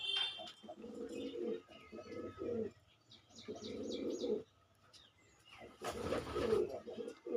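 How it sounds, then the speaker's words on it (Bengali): A house pigeon brought from Punjab coos in low repeated bursts, several rounds separated by short pauses, with faint chirps and a brief flutter near the end, fairly close and moderately loud. "পায়রাটা আমি শো করছি। পায়রাটা আমার বাড়ির পায়রা।"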